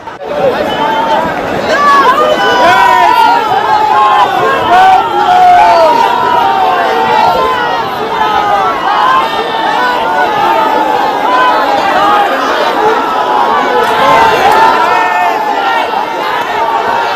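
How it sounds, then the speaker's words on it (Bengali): Rowdy crowd at Yuva Bharati stadium chanting Jai Shri Ram slogans, a loud, sustained mass of overlapping shouting voices with surging yells that holds steady for the whole stretch. "মুখে জয় শ্রীরাম স্লোগান বলে তাণ্ডব"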